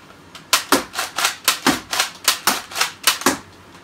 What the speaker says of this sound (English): I'm gonna fire 6 bullets. If you can hear that hitting the wall,